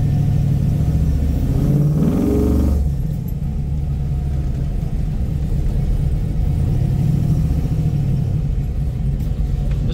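An LS-swapped 1968 Chevrolet Chevy II Nova SS launches hard, with a loud, close engine roar and revving in the first seconds, then a deep, steady rumble as it pulls away.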